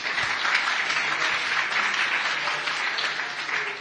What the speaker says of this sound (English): Let's give them all a round of applause if we could